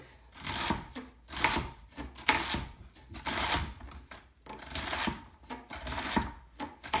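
A knife slices celery on a cutting board with a forward-pushing rolling stroke, giving a steady run of crisp, close chopping bursts about once per second with no talking.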